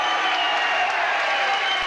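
A wrestling crowd cheers and applauds steadily through the whole moment. The roar is broad and sustained and sounds like a packed hall, with no clear breaks.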